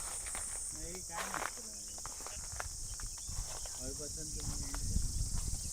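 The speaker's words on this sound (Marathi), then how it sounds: "आवाज बघ कसला येतोय रातकिड्यांचा आवाज बघा." Crickets chirping in a shaded riverside spot, a continuous high shrill drone steady throughout, with soft footsteps and brief voices underneath.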